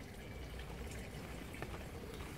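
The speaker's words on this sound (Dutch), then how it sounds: "Wel rustgevend die waterval in de tuin." A garden waterfall gives a steady, soft rush of falling and splashing water, faint and unbroken throughout without any voices.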